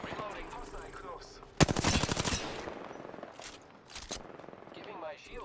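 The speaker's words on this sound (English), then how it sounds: "I am taking fire, friends." Automatic gunfire in the battle-royale shooter Apex Legends: a loud, rapid burst of shots bursts in after a quieter stretch with footsteps and ambient game noise, followed by a few scattered later shots and impacts.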